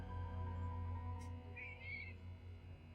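A cat meows in The Painscreek Killings, one short mewing call over a low steady hum of background ambience, fairly faint and close.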